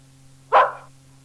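A single sharp dog bark, close and loud, rising out of near silence over a faint steady hum.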